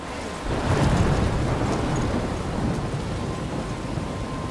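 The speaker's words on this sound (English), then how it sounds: "I'm trapped in a storm?" Stormy weather in the Life is Strange video game, with steady heavy rain and a rolling thunder rumble that swells early and continues as a dense, loud wash throughout.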